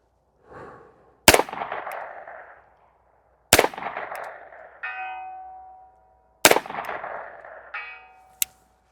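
Rifle shots fired outdoors at a steel target 225 yards away, three loud cracks each followed by a faint metallic ring from the distant steel, with short electronic beeps between shots.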